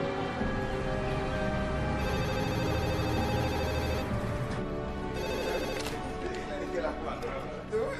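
A desk telephone rings repeatedly with a bright, steady electronic bell tone, heard close and loud while people talk over and around it.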